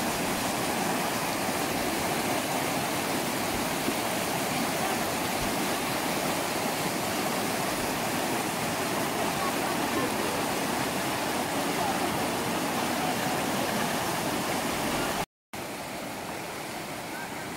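Strong river current rushes in a steady, loud broadband roar throughout a river crossing, with a brief dropout near the end.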